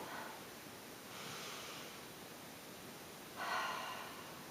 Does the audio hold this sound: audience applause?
no